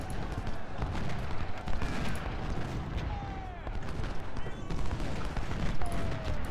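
Musket volleys crackle across a Civil War battlefield in the strategy game Ultimate General: Civil War, a continuous rolling fusillade with distant booms and whistling shells beneath it, while someone speaks briefly over the din.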